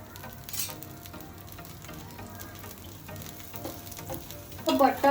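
Masala dosa frying on a hot tawa gives a steady, close sizzle with soft crackling, growing louder and spattering more sharply in the last second. No one speaks.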